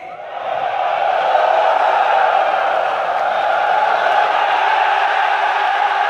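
Korean military trainees roar and cheer together as they perform a crowd wave, a dense, sustained mass of voices that holds steady at full volume from start to finish.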